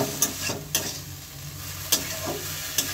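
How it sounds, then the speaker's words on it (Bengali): Tomatoes being stirred into a hot pan for a katla fish curry, with a steady low sizzle of frying broken by four sharp scrapes and knocks of the spoon spaced a second or so apart, close by and with no talking. "টমেটোগুলি দিয়ে এখন একটু নেড়ে চেড়ে নেব।"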